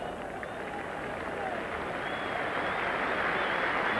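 Cricket crowd at Old Trafford applauding Mike Atherton during a 1991 England v West Indies one-day international, a steady, far-off wash of clapping that holds evenly throughout.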